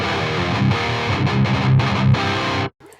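Heavily distorted electric guitar through a Mercuriall SS-11X amp plugin with a Mesa Engel cabinet impulse response, thick chugging chords with a fizzy top that ring loud and then cut off abruptly.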